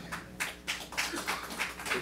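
A small scattered audience at a monetary policy report launch claps briefly in a hall, a moderate patter of uneven claps rising and settling over a couple of seconds.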